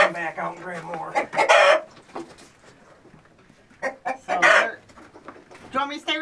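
A flock of chickens being caught and dumped into a pen clucks and squawks in loud, close bursts, with several agitated calls rising together, then quieter gaps before another flurry.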